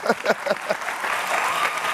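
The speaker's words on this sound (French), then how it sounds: "On applaudit pour tout content." A television studio audience claps. A few voices and separate claps come first, then the applause swells into a steady, fairly close wash.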